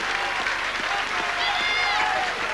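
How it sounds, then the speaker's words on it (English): Crowd applause for the football teams leaving the pitch after an FA Cup away tie between Crewe and Blackburn Rovers, a steady, broad clatter of clapping from a stadium crowd throughout, with a faint commentary voice beneath. "Good applause for the teams as they come off"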